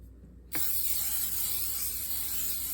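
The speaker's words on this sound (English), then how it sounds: "we are going to spread it inside of the slow cooker with cooking spray" Cooking spray hissing from a can inside a slow cooker, one sudden, continuous close spray that holds steady to the end without a pause.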